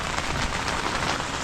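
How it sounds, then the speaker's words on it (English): Heavy rain pours steadily at a remote campsite, a dense, even hiss of drops drumming on surfaces close by, continuous and loud with no pauses. "It's pissing down."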